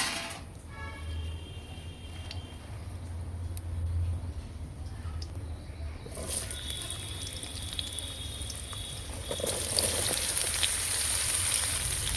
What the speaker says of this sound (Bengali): ভালো করে নেড়ে ভেজে নেবো